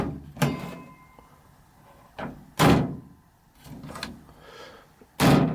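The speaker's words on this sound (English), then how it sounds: "See here, you hear the clunk. You hear the power behind the magnet." A strong magnet on a torch snaps shut with a loud, sharp clunk, heard four times at irregular intervals with quiet gaps between, close to the listener and with no talking.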